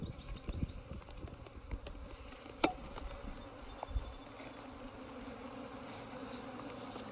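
Honey bees buzz busily around an open hive at close range, a continuous droning hum with occasional louder passes and light knocks.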